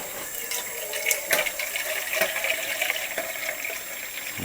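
Tap water runs steadily from a kitchen faucet into a can while chili is being prepared, a continuous splashing hiss with small irregular bursts, fairly close and heard alone without talk.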